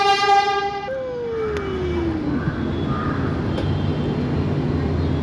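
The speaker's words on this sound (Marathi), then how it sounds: "हे बघ मेट्रो." A metro train pulls into a station, opening with a bright multi-toned horn or chime that slides downward, then settles into a steady low rumble and whine as the cars roll in.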